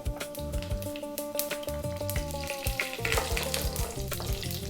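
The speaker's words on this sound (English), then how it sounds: "Let's start off by dropping in the black mustard seeds" Black mustard seeds and fennel seeds crackle and pop in hot mustard oil, making a steady close sizzle with rapid little bursts throughout, while faint music plays underneath and no one speaks.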